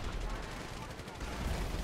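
Gunfire in the game GTA 5 during an attack over Los Santos, a dense, continuous rumbling burst of shots with a heavy low-end boom throughout, loud and steady with no clear gaps.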